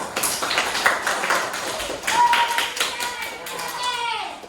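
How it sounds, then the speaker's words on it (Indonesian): Students in a Quran and hadith classroom clap in a loose, fairly quiet patter of separate hand claps, with children's voices mixed in and a teacher's voice nearby. "Oke, tepuk tangan dulu untuk kalian semua."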